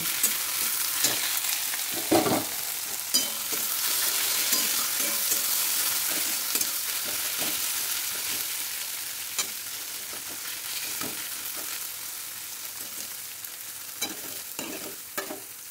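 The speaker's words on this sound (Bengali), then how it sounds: "পেঁয়াজটা আমি অনেকটা লাল লাল করে ভেজে নেব" Onions frying in a pan until reddish-brown, a steady soft sizzle with repeated scraping and stirring strokes at irregular intervals, close and alone without talk.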